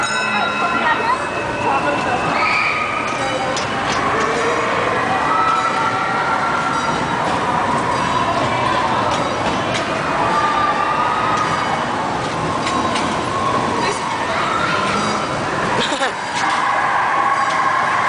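A train rolls along railroad tracks on a ride, heard as a loud, continuous rumble and rattle of the carriage with a bell-like tone, while people talk throughout.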